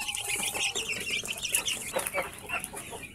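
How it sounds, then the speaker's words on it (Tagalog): Month-old Rhode Island chicks, just fed, keep up a busy chorus of high peeping and soft clucking, with a few light wing flaps mixed in, fairly close. "malapit na rin na mag isang buwan tong mga alaga nating sisiw ng mga Rhode Island"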